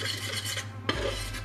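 Flour being stirred into melted butter in a pan for meatballs: a steady rasping, scraping stir with one brief knock partway through, close and alone.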